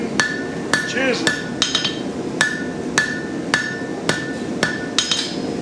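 A hammer strikes a chisel into hot metal at a blacksmith's forge, a sharp ringing clang every half second or so, about a dozen crisp, evenly spaced blows close by.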